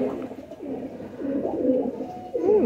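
A broad-chested pigeon coos in repeated low, rolling phrases, close and steady, with no other sounds competing.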